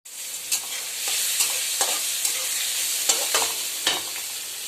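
Onion, garlic and a pinch of asafoetida with green chili sizzle steadily in a hot pan, a constant bright frying hiss broken by several sharp stirring scrapes and clicks.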